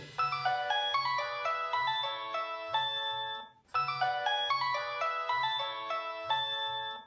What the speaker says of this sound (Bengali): তোমার ফোন বাজে।